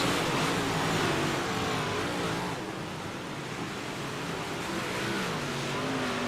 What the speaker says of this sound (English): And now Corey Austin really starting to pour the throttle to it